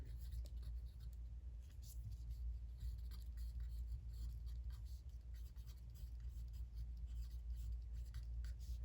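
Pencil or pen scratches steadily across paper while working a math exam review problem, a continuous soft rasping with faint irregular strokes over a low background hum, no talking.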